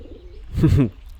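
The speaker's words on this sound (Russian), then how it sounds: "Вот если прислушаться, как будто звуки голубей." A dinosaur creature's call in the video game Beasts of Bermuda, a soft pigeon-like cooing burst of about half a second, rising over faint background hum and fading quickly.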